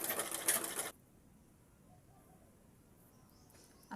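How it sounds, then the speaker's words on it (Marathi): A sewing machine stitches fabric in a short, loud, steady whir that lasts under a second and then stops, leaving a quiet room. "आता ह्या भागाला आपण अशी इथं शिलाई मारून घेऊ."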